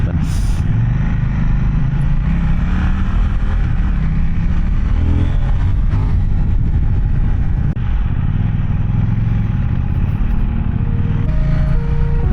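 A KTM Duke 790 motorcycle rides through traffic in Malaysia, its engine a loud continuous rumble with shifting revs and wind noise close to the rider, with some speech mixed in.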